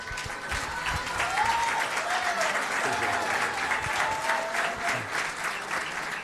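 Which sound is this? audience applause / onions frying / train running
audience applause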